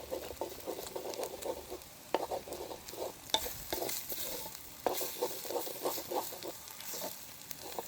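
Egg and drumstick being stirred in a frying pan, a soft sizzle broken by repeated scraping and tapping of the spoon in an uneven rhythm, close and moderately quiet.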